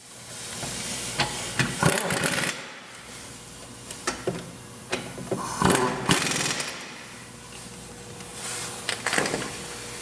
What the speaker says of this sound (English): Now we'll tighten up the carrier bolts.